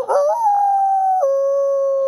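A voice imitates a dog's two-toned, diphonic howl, holding one long steady note that drops to a lower pitch partway through, clear and unbroken with no other sound.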